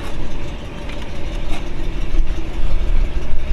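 A 1963 Rolls Royce Silver Cloud III runs at a steady idle heard from close by, a continuous low rumble that swells slightly toward the end.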